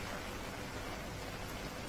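Steady rain pours down in Visavadar, Junagadh, a faint, even hiss of falling water that holds without break for the whole stretch, with no voices.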